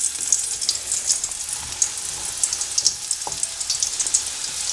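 Marinated soya chunks frying in hot oil in a pan, a bright, crackling sizzle with scattered pops, loud and close with no talking.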